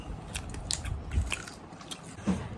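Someone eats paratha with chicken and onion chutney, with close, soft bites and chewing and a few light crunches, with no talk.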